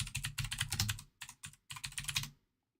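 Rapid clicking keystrokes on a computer keyboard, typed close up in quick irregular bursts with a few short pauses, no voices, ending abruptly in silence.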